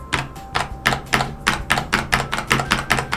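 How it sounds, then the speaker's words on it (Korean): Rapid, evenly spaced clacky keystrokes on a mechanical keyboard with standard switches, about four presses per second, close up and crisp with no talking. "일반 스위치의 경우에는 눌렀을 때 이게 소리가 잘 잡히는지 모르겠지만 좀 과장해서 타건을 해보면"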